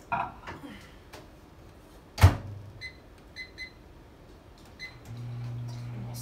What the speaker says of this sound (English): I'm going to put it in my microwave probably for about 3 minutes to start with.